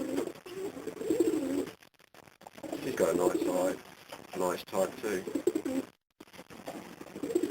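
Racing pigeons kept for breeding coo softly in the background while someone talks over them, their low murmuring calls partly masked by his voice.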